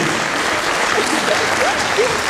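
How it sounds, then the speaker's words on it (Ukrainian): Restaurant guests at Oksana's celebration with a live ensemble keep up hearty, steady applause, many overlapping hands clapping loudly and evenly, with a few faint voices rising beneath the clatter. "Ми зустрічаємо Оксанку бурхливими оплесками."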